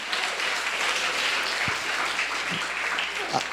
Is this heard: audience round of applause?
yes